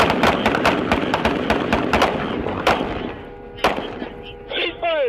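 Gunshots during a police incident picked up over a radio scanner: a rapid string of sharp cracks in quick succession, then a few scattered shots, with radio tones and chirps near the end.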